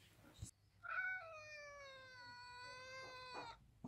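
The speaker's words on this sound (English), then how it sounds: "Cats are trying to break out." Cats in a kennel setting let out a single long, loud, drawn-out meow that holds steady for nearly three seconds, close to the microphone, with a short click before it and no talk over it.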